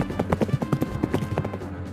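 Horse hooves clip-clop in a steady, galloping rhythm of repeated thuds, evoking cavalry riders of a mounted force; fairly close and clear, with no talking over it.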